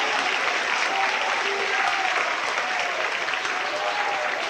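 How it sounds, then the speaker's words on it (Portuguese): Church congregation clapping during worship, a continuous, even roar of many hands with no break, heard from a distance in a reverberant hall. "Bate palmas e louve a Jesus."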